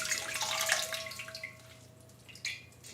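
Rice noodles rinsed under a running kitchen tap: close splashing water for about a second and a half, then quieter trickles and drips with a short final splash.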